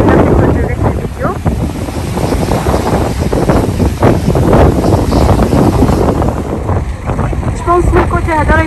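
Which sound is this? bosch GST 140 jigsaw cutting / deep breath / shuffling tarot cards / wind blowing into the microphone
wind blowing into the microphone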